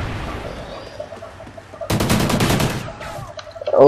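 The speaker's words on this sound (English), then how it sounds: "Oh, that shotgun is it. That shotgun is powerful." A shotgun fires in a Call of Duty Ghosts multiplayer match, a sharp burst of loud blasts with quick pumping clatter, set against quieter game ambience.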